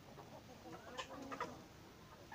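Quiet, close clucking from chickens, a few short bursts scattered over faint background noise.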